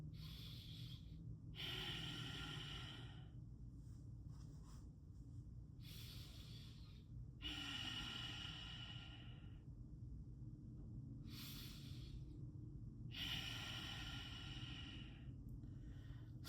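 A person demonstrating deep, forceful breathing like a newborn baby: slow, hissing inhales and exhales repeated about five times in even cycles, close to the ear over a low steady hum, with no talking.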